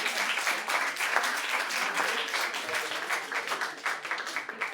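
An audience at a slam poetry tournament in Nice applauds a poet, with even, sustained clapping from a small room crowd that holds steady throughout, moderately near and with no voices on top.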